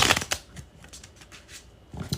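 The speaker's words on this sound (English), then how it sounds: "It is time for the bridge shuffle." A deck of playing cards given a bridge shuffle, with a crisp riffling burst at the start, quieter card handling in the middle and a second ruffle of cards at the end, close and fairly quiet.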